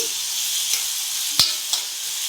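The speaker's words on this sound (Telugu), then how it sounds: "అల్లం పచ్చిమిర్చి వేగిన తర్వాత మనం ముందుగా ఉడకబెట్టి స్ట్రెయిన్ చేసుకున్న సొరకాయ ముక్కలు యాడ్ చేసుకోవాలి" Boiled, strained bottle gourd pieces fry in a hot tempering of ginger and green chillies, a steady close sizzle with a sharp clatter of stirring midway and a lighter scrape near the end.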